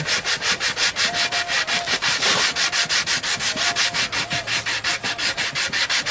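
A wooden bowl is hand-sanded with 150 grit sandpaper over a sponge, giving a steady, rhythmic scratchy rubbing of back-and-forth strokes, close and fairly loud, with no talking.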